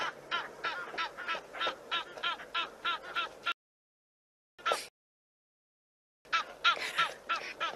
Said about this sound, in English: we've got another short clip of Egyptian geese that are fighting at Tau